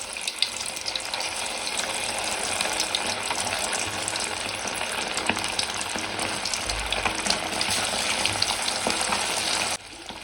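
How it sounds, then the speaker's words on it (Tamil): Sun-dried fish crackle and sizzle in hot oil in a home kitchen, a dense steady frying hiss with scattered pops and spatters continuing throughout, close and fairly loud. "இப்போ வெயில்ல காய வச்ச மீனை உள்ள போட்டுக்குவோம்."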